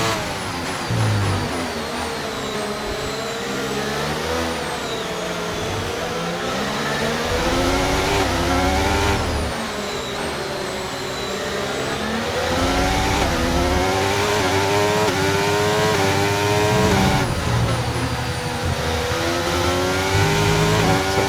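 Race car engines in a Formula racing video game at the Mexico circuit, high-pitched whines rising and falling through gear changes, continuous and fairly loud, several cars overlapping with no talk.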